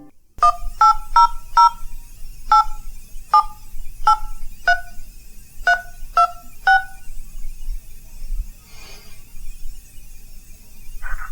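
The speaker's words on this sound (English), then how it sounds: "Let's call this damn phone number." A telephone keypad dials a number in a quick series of about eleven clear dual-tone beeps, close and distinct, followed by faint background noise.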